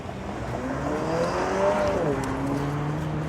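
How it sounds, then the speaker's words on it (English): A Porsche drives past on a city street: a smooth engine tone rises and then drops in pitch as the car goes by, heard over steady traffic and wind noise. "Saw the car, the Porsche."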